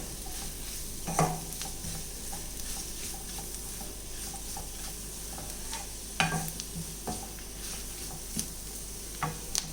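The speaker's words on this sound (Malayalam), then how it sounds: "ഇതൊന്ന് ഇളക്കി മിക്സ് ചെയ്യാം. പൊടികളൊക്കെ ഒന്ന് മൂപ്പിച്ചെടുക്കാം." Spice powders are stirred and roasted in a thick egg masala gravy, a low steady sizzle broken by a few sharp spoon knocks against the pan.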